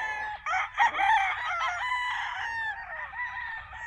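A Gilmore Hatch gamefowl rooster crows nearby, one loud drawn-out cock-a-doodle-doo with a rising start and a trailing, wavering end over faint farm background.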